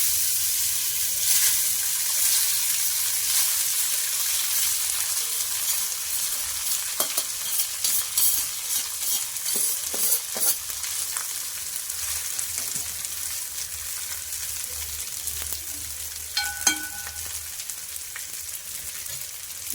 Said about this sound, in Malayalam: നെയ്യിലോട്ട് നമ്മൾ റൈസ് ഇടുവാണ്.